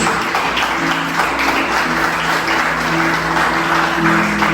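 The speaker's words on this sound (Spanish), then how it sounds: "Denle ese aplauso fuerte a Jesús." A church congregation claps in sustained, dense applause for Jesus, loud and even throughout, with a faint musical tone underneath.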